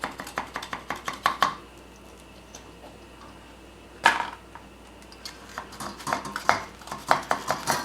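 Stuck popovers being pried out of a metal baking pan: a run of quick sharp metallic clicks and scrapes, a pause, one loud clank, then more rapid clicking close up.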